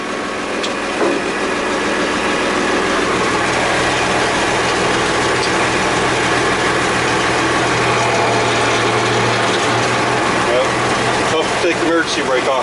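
A 1968 Kaiser Jeep M109A3 military truck engine runs steadily throughout, a dense continuous mechanical drone with ratcheting, gear-like clatter layered over the low rumble, close and loud.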